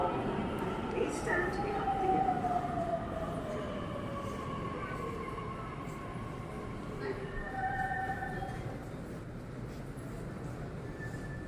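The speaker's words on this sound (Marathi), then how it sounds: "आता ट्रेनचा आवाज पहा" A metro train pulls into an underground station in Pune with a rumbling roll, rising whines and squealing wheel tones that echo, while people talk nearby.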